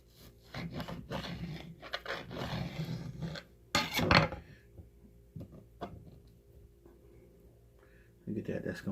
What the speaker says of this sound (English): I'm gonna cut these at 1/8 of an inch thick, and I'm gonna cut with the grain